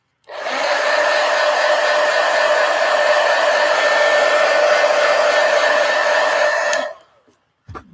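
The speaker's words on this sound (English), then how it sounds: "let me hit it with the heat gun real quick" A heat gun blows hot air in one loud, steady, whooshing roar with a fan whine, running about six seconds close to the listener before cutting off abruptly.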